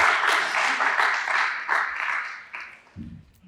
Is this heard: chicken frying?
no